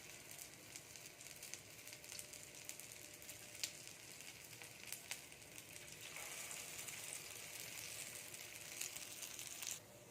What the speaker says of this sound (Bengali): আমি সবগুলো দিয়ে দিলাম ফ্রাই প্যানে।